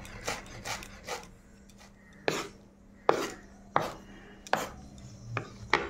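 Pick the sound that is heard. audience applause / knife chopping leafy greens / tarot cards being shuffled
knife chopping leafy greens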